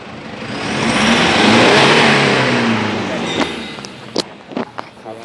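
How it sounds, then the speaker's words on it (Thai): A Toyota Hilux Vigo engine revs up abnormally slowly, its pitch rising and swelling to a loud peak before easing off, followed by a few sharp clicks and knocks. "เครื่องยนต์ รอบจะขึ้นช้ามากนะครับผมมันต้องขึ้นไวกว่านี้ครับ"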